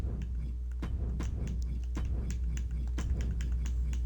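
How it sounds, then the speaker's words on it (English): Fingers tap rapidly on a computer keyboard, a close, irregular patter of crisp keystrokes with a few louder strikes, over a low steady hum and no talking. "I'm going to type in Edge"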